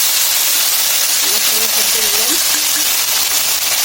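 A spice paste of onion, garlic and green chilli with turmeric and coriander powder fries in hot oil, giving a loud, steady sizzling hiss with a faint voice briefly audible underneath.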